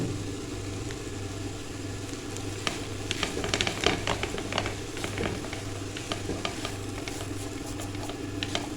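Boiled shredded chicken stirred into a sizzling filling for chicken bread rolls, with a busy patter of frying and scraping strokes building in the middle and continuing steadily, close and fairly loud.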